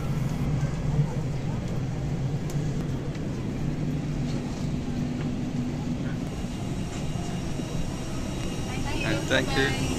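An airplane at Colombo airport gives off a steady broadband engine roar and rumble that holds evenly throughout, with voices mixed into the background.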